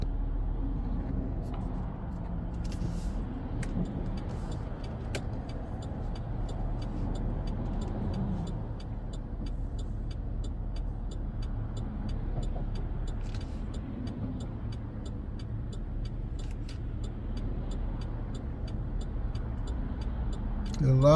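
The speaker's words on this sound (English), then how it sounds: "there's a lot of cars coming this way." Road traffic heard from inside a vehicle, a steady low rumble of engines and tyres with faint ticking over it, continuous and fairly quiet throughout.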